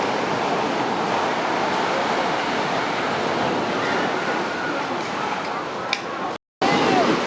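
Waves wash onto the sand at Maya Beach on Phi Phi Island, Thailand, a steady broadband surf roar with wind buffeting the microphone, briefly cutting out near the end before resuming.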